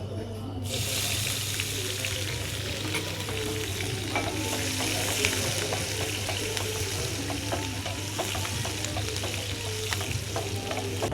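Fenugreek, ginger, green chili and garlic sizzle steadily in a hot pan for a fish mango curry, a continuous crackling fry with occasional stirring clinks over a low steady hum.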